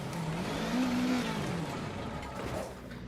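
Rally car engine in a racing video game, a steady droning growl with a brief rise in pitch as it revs, then easing off, loud and continuous throughout.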